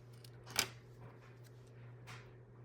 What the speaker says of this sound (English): you see where my dimensional sticks out over the edge, so I'm just going to trim that off